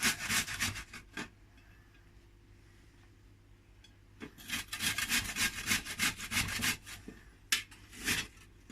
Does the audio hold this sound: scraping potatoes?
yes